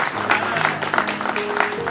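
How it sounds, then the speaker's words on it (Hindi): An audience at a talk on IoT control of a DC inverter air conditioner applauds steadily and loudly from nearby. A voice is heard faintly beneath the clapping. "यार जोरदार जरा तालियां तो बजाए ना"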